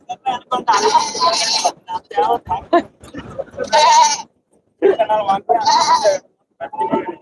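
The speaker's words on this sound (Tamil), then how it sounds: "செம்மறி கடா சரியான செம்மறி கடைகள்" Sheep rams at a Tamil livestock market in Ettayapuram, with repeated bleats and goat-like calls close by, mixed with steady talk and crowd noise in short bursts throughout.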